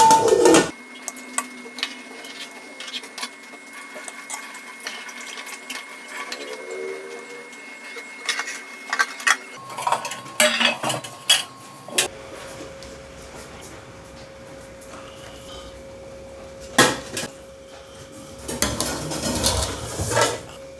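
Cooked white chicken curry is served onto a plate with metal utensils in a home kitchen. Close clanks and scrapes of utensils against dishes come in irregular clusters, with a steady hum underneath.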